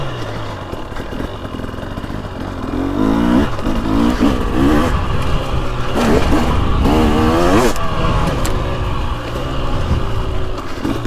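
A 2023 Husqvarna TX300 Heritage Edition two-stroke dirt bike engine revving and lugging on a woods trail, a close, loud, rising and falling snarl with repeated throttle surges.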